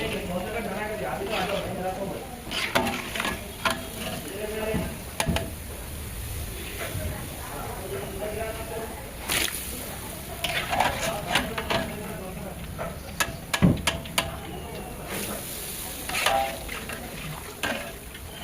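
Kala jamun frying in pure ghee and then being lifted into sugar syrup: a steady sizzle with scraping and clinking of a utensil against the pan, and people talking throughout.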